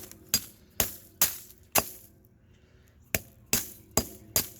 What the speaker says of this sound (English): You're going to just start tapping away until it starts to shatter apart.